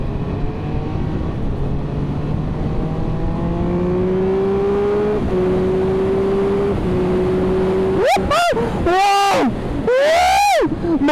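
Triumph Speed Triple 1200 RS motorcycle engine pulling hard with a rising tone under wind noise, then loud sharp revving bursts near the end.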